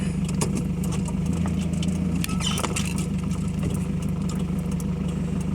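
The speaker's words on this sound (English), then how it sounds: "I got another car coming." A car passing on a busy road, a steady moderate engine and tyre rumble with a faint swell midway, heard from nearby over continuous low traffic hum.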